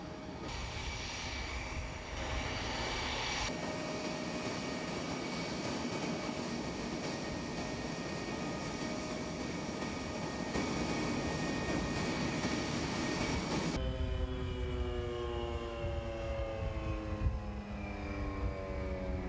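A fixed-wing airplane running its engines on the ground during testing, with a side panel opened, gives a loud, steady roar with whining tones that shift in pitch partway through, sustained and close throughout.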